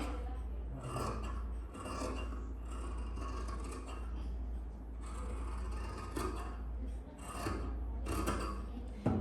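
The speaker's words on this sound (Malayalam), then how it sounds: "അതാ ഇവിടെ വെച്ചിട്ട് ഇതങ്ങ് കട്ട് ചെയ്യുവാണേ" Scissors cut through cloth for a garment sleeve, making a close, continuous rasping snip over a low steady hum.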